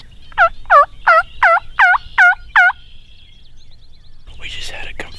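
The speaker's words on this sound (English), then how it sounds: "we just had a confirmed gobble that was up that way, towards the timber" A wild turkey gobbles in a rapid run of about seven loud, rattling notes at a field edge near timber on Iowa public land, then quiet rustling and a faint voice follow.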